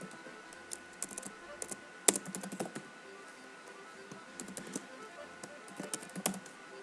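Quiet typing on a computer keyboard while configuring a Cisco switch, with sparse irregular key taps and short bursts of clicks scattered over a low background hum.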